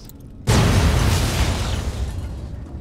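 A thrown grenade detonates in Fallout: New Vegas with one sudden, loud, close blast, followed by a long rumbling decay that fades slowly.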